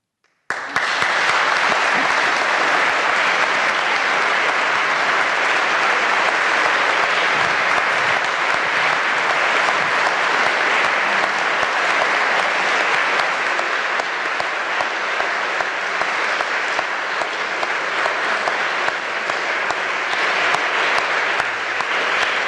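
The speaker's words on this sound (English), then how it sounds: "Professor Hedley Brooke, I think the applause has been very eloquent." A lecture audience at the Boyle Lecture 2013 breaks into sustained, dense applause that starts abruptly and continues steadily and loudly throughout.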